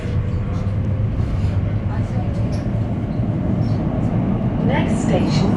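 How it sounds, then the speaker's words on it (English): British Rail Class 345 Elizabeth Line train running toward Canary Wharf, a loud steady low rumble and whine of the carriage interior with wheel and track noise throughout, faint brakes or squeals near the end. "This is the train to Abbey Wood via Canary Wharf."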